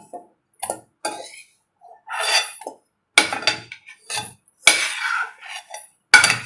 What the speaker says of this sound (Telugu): ఈ రవ్వ మొత్తము ఒక గిన్నెలోకి ట్రాన్స్ఫర్ చేసుకోవాలి.